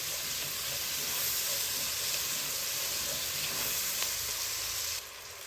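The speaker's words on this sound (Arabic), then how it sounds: "البصله طبعا عايزينها يعني ايه تتشوح كده لحد ما لونها يبقى ذهبي شويه" Onions sauté in a pan until golden, giving a steady, close hissing sizzle that holds evenly and drops in level near the end.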